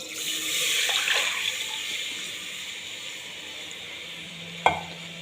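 Turmeric water pours into a hot pan with a soft rushing hiss that fades into a steady simmer, followed by one sharp clink of a utensil.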